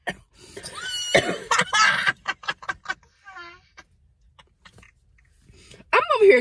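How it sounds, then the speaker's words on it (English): Several sharp coughs in a quick burst, then scattered clicks and small sounds, with a voice speaking briefly near the end. "I had a little cough."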